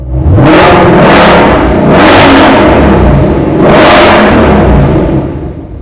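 A 2020 Shelby GT500 with its exhaust open in sport mode revs hard three times, each loud rising roar falling back to a deep idle rumble, close and dominant.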